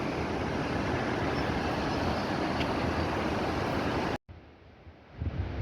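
Waterfalls cascade down mountain slopes into the Pinder river along the Pindari Glacier trek, a steady broadband roar of rushing water, loud and continuous, that cuts out abruptly near the end before a softer flow resumes.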